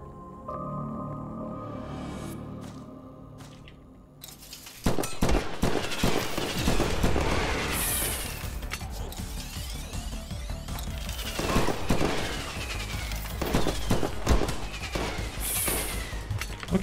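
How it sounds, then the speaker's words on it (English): A firework gun in the co-op shooter From Space fires repeatedly, producing a rapid barrage of crackling bursts, pops and crashing impacts that run loud and dense over game noise after a quieter opening passage. "the firework gun is actually pretty good considering how much ammo you have for it"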